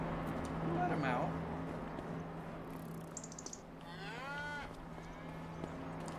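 Cows moo in the farming game Farming Simulator 25, two drawn-out lowing calls a few seconds apart over a steady hum, with a voice talking quietly in the background.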